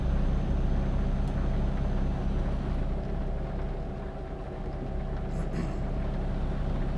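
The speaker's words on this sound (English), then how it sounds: "The truck doesn't sound too happy." Simulated truck engine in Euro Truck Simulator 2, a low, steady droning rumble that dips slightly midway, with no talk over it.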